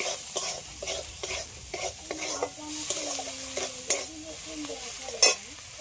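Prawns and banana flower stirred and fried in a pan with salt and turmeric: steady sizzling under repeated scraping strokes of a spatula, with a sharp clink near the end, close and alone without talk.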